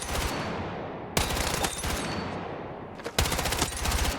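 An assault rifle in Battlefield 6 fires long, loud, rapid bursts at a high rate, a dense continuous rattle broken by two brief pauses.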